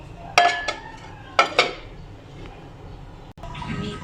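A lid is put onto a cooking pot in a kitchen, giving a few sharp metallic clinks and clanks in quick succession, close and fairly loud, then a soft rustle.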